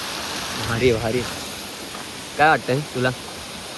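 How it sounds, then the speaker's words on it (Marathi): A hidden waterfall in Thane gives a steady broadband rushing roar close by, with voices talking briefly over it. "धबधब्याचा असली आनंद"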